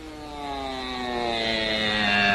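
A propeller airplane drones overhead in an old Hollywood comedy, a steady loud engine hum with rich harmonics that slowly swells and shifts in pitch as it passes, with no voices.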